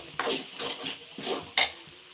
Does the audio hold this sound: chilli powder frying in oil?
yes